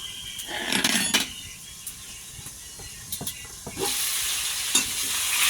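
Pangas fish frying in a pan while being stirred, a soft continuous sizzle broken by scraping spatula strokes and a few sharper clinks, the frying hiss swelling louder toward the end.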